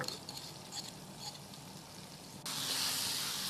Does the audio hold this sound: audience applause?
no